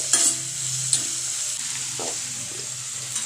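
Onions sautéing in oil for a leafy greens gravy, a soft steady sizzle with a few close spatula knocks and scrapes as they are stirred, no voices.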